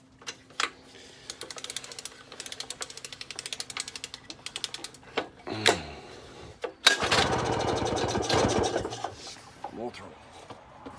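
An old Victa impulse-start utility engine pops and ticks in a rapid irregular rhythm, then catches and runs loud and rough with a buzzing roar after about seven seconds, close to the listener.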